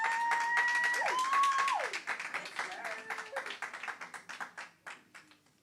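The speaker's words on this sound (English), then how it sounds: "Big round of applause for all of them." An audience at a ceremony gives a round of applause: loud clapping mixed with high whistles and voices at first, then thinning out and fading into scattered claps.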